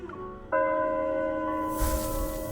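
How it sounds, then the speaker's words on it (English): A bell rings outside in the romance game Love and Deepspace, a single sustained, resonant chime with long ringing overtones that swells and then fades under a soft airy wash. "as a bell rings from outside"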